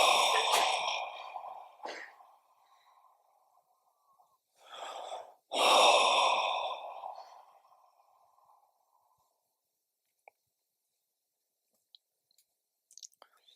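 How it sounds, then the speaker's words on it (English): Deep audible breaths and sighs during a guided Buddhist meditation session at a retreat, several slow inhales and exhales spaced apart, fairly close, then near silence. "Take 3 deep breaths,"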